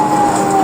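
A police car siren in Dade County wails loud and close in a brief, steady high tone over road noise.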